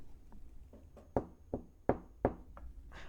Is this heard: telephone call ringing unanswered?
no